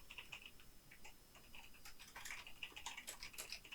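Quiet, rapid typing on a computer keyboard, a steady stream of light plastic key clicks heard up close on their own while a search is entered.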